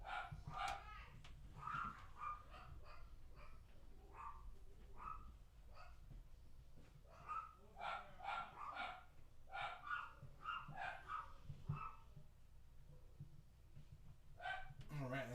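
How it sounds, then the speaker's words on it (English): Several dogs bark repeatedly in uneven bursts, somewhat distant and faint, mixed with scattered yips and occasional quiet voices in the background. "I hear the dogs"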